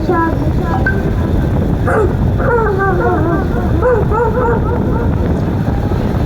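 A child at a school mimicry event mimics a dog with a quick series of short, yappy barking sounds, fairly close and clear above background noise.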